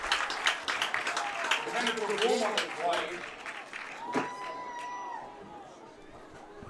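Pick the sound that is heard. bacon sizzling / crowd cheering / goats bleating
crowd cheering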